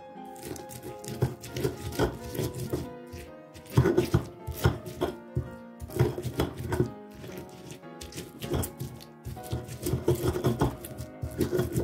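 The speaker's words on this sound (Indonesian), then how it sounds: "Ini cabainya sebagian saya ulek, sebagian saya wungkulkan." Chili peppers, including bird's eye chilies, pounded and ground in a stone mortar with a pestle while making soy-sauce braised eggs; repeated close thumping and crushing strikes in uneven bursts throughout.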